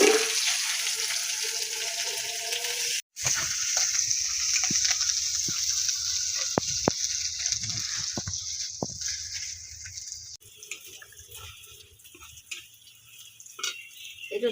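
Chopped ginger sizzling in a pan with onion for a bean-seed lentil and mixed vegetable curry: a steady, bright frying hiss with scattered crackles and pops, which drops to a lower hiss near the end.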